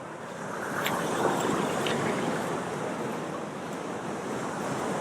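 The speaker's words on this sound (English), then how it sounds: "we gotta show you these big waves because they are beautiful" Big ocean waves break on the Monterey coast in a broad, continuous roar of surf that swells and settles, with a gusty rush of wind over the microphone.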